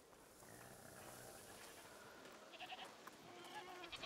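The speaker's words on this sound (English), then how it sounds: "What's over there? Goats!" Goats bleating in A Plague Tale: Requiem, heard over busy market ambience in the game's setting; several soft, faint bleats rise briefly after the midpoint amid steady background noise.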